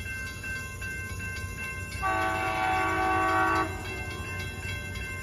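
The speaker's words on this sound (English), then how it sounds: "Here is Amtrak P371 arriving on station." An Amtrak P371 train pulls into a station, its horn sounding as a loud sustained blast for about two seconds over a steady rumble of rail noise, with no talking.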